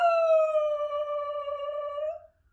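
A single long, drawn-out dog howl, steady in pitch and close by, holding for about two seconds before trailing off into silence.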